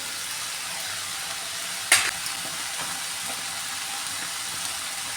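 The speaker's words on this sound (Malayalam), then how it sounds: "ഇനി ഇതിലേക്ക് അരിഞ്ഞ് വെച്ചിരിക്കുന്ന പാവയ്ക്ക ഇട്ട് കൊടുക്കുവാണ്." Chopped bitter gourd drops into a pan of softened frying onions for thoran, a sharp clatter followed by a steady, close sizzle that carries on alone.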